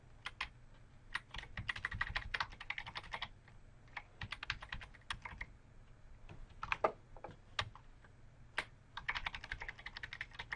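Computer keyboard arrow keys pressed in quick bursts while nudging shapes in PowerPoint, a series of light plastic clicks in clusters with short pauses, close and fairly quiet, no talking.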